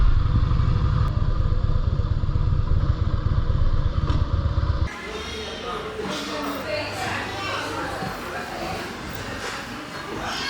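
A motorcycle rides along a coastal road toward Somnath, its engine droning loud and steady at first, then shifting to a rougher, wind-buffeted rumble halfway through, with a voice talking over it.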